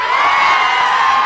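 A large crowd at a political rally in Adilabad, Telangana shouts and cheers in a dense, loud, continuous roar, heard close with no clear gaps.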